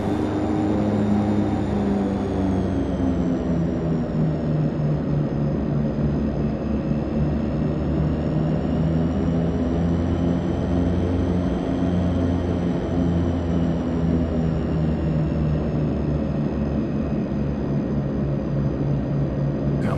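A DHC-6 Twin Otter in a flight simulator holds a steady, loud turboprop drone under a constant high whine while it powers up on the runway, with no speech.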